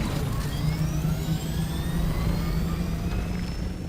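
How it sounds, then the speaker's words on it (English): Steady engine drone from a helicopter in the Dune video game, loud and continuous throughout with a low hum and faint rising whine, while it sits near the edge of a sandworm zone being pushed. "Oh, we're pushing the helicopter."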